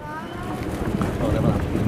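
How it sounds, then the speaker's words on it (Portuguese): Strong wind buffets a rooftop slab where kites are being flown at a crowded kite gathering, a rough, rumbling gust against the microphone that builds over two seconds while people talk. "Tá brabo o vento aqui, mano."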